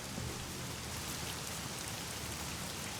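Heavy rain in the video game The Medium, a steady dense downpour hissing evenly throughout with no breaks, no thunder and no voices.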